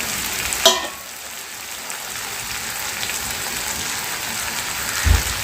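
Tomato and onion frying in a pan with spices added for a Maharashtrian bean curry, giving a steady broadband sizzle with a sharp utensil clink near the start and another light knock near the end, no talking.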